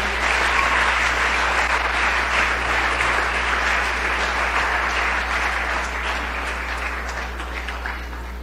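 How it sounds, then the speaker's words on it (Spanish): Sustained applause from a church congregation during a sermon, dense and loud, holding steady for several seconds and easing slightly near the end. "Dale más fuerte ese aplauso a Jesús."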